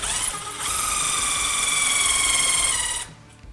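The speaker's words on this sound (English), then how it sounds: "So we're just gonna pre-drill a hole." A power drill pre-drills a hole in a shop wall, whining at a steady high pitch for about two and a half seconds before stopping, loud and close.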